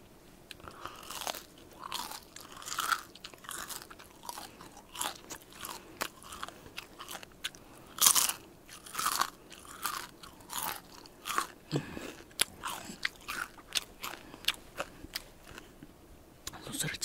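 KFC fried chicken skin eaten close to the microphone, with a steady series of sharp, crisp crunching bites and chewing, repeating irregularly throughout without talk.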